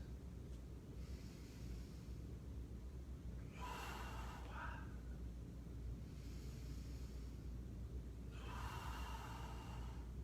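Deep, slow breaths are taken while holding a yoga plank, with two or three long airy exhales standing out above a steady low background rush.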